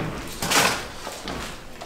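Heavy thuds against a door in a quiet, supposedly haunted house, with one louder broadband bang near the middle and softer knocks around it, fairly close in a hushed room.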